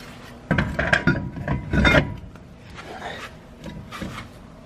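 Brake rotor slid onto the hub of a Subaru BRZ during an STi Brembo brake conversion, metal scraping and rasping against the hub in a couple of short loud bursts, then quieter rubbing and clinks, close by.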